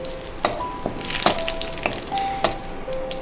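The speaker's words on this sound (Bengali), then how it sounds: "এবারে এই ঘিয়ের মধ্যে তেজপাতা দুটো ফোড়ন দিলাম" Two bay leaves crackle in hot ghee in a pan, with a steady sizzle under sharp pops and ticks spaced roughly every second, plus brief clinks, close and moderately loud.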